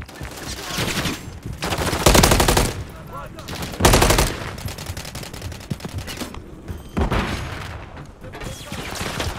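Rapid automatic gunfire and loud bursts come from a Call of Duty: Modern Warfare 3 beta match on PS5 on the Rust map, with repeated close bursts separated by short pauses and a faint voice underneath.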